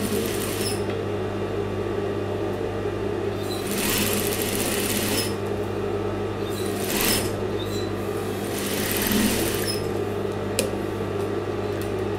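A sewing machine runs in several short bursts while joining the underarm seam of a color block dress, its steady mechanical whir rising and stopping at intervals over a constant low background hum, with no talking.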